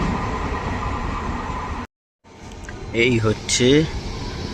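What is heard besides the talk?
Bardhaman-Howrah local train passing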